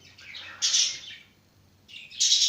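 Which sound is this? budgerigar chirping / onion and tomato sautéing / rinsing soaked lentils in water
budgerigar chirping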